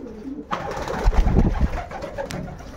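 Pigeons coo softly in a loft, with low throaty calls rising and falling over about three seconds and a few wing or body rustles close by, no voices present.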